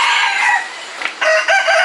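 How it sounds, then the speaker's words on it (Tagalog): Chickens at Wawa Dam in Rodriguez, Rizal, heard as a loud, close rooster crow stretching across the moment, broken by a short gap and a couple of clucking bursts. "May mga manok."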